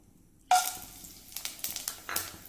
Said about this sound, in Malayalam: ഇതിലേക്ക് ഞാൻ മസാല ഇട്ട് കൊടുക്കുകയാണ്.